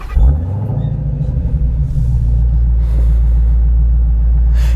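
A Dodge Hellcat Jailbreak's supercharged Hemi V8 cranks and catches with a sharp burst, then settles into a loud, deep, lumpy idle rumble, close up and continuous.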